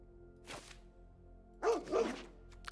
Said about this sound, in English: I do love that it barks like a dog